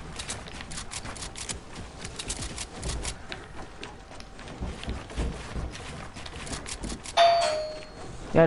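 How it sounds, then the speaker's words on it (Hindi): A home doorbell rings near the end, a short bright chime rising out of busy game sounds that fill the rest of the stretch, with a second burst at the very close. "घंटी बज रही है घर की"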